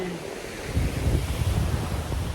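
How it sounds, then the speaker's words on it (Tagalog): Sea waves at Binduyan Beach in Palawan roll in as a steady low surf roar, louder after the first moment, with wind buffeting the microphone. "Tapos yung dagat niya naman, tara, tingnan niyo yung dagat."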